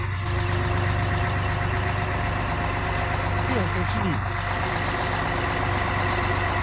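Trucks lined up at the Santa Catarina Custom Show, an outdoor custom and vintage car event, give a steady engine rumble and idling drone under a busy crowd, with a brief beep near the end and someone talking briefly.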